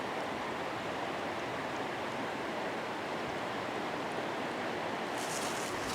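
A river flowing past its bank in spring, giving a steady, even rush of water that fills the whole stretch at a constant low level, with no voices.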